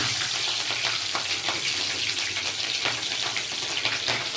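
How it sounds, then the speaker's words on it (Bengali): Green chillies dropped into hot oil crackle and sizzle loudly and steadily at close range, a dense hissing spatter with no voices. "তেল গরম হয়ে গেছে, কাঁচা লঙ্কাগুলো দিয়ে দিলাম"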